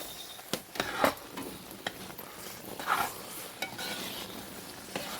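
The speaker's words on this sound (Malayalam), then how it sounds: "നെയ്യ് ഒഴിച്ചിട്ട് നന്നായി ഇളക്കി കൂട്ടിയെടുക്കണം" Ripe jackfruit varatti cooks with ghee in a pan while a spoon stirs it, giving repeated scrapes and knocks against the metal over a low steady sizzle, close and quiet, with no talking.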